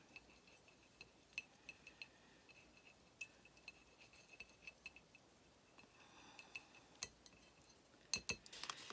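Acrylic paint stirred to thin it out for a stamp pad, faint scattered clinks and taps of a utensil against a small container in a quiet room, with a louder cluster near the end.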